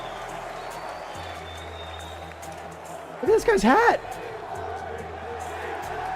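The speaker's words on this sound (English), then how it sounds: "Dude, the crowd. Listen to the crowd." A crowd at an esports watch party for the Call of Duty League Championship finals cheers and yells as a steady background roar, with a person talking close over it.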